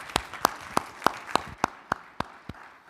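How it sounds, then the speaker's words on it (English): Sparse, evenly spaced claps sound at the close of a school board meeting, about ten distinct hand claps in a slow, regular rhythm, fairly faint. "everybody give yourself a round of applause."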